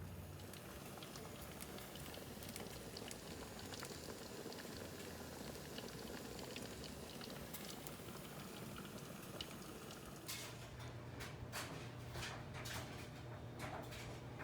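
A Ninja pressure canner loaded with jars of peas heats up toward pressure, giving a faint, steady bubbling hiss with a low hum and occasional soft ticks.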